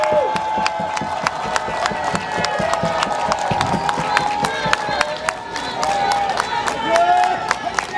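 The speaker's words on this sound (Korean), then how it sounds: "여러분 대단히 죄송하지만 공영노조원들을 위해서 박수 한번 부탁합니다" A crowd at a rally for public broadcasting union members breaks into sustained clapping and cheering, with sharp individual claps standing out over the steady applause and voices audible in the mix.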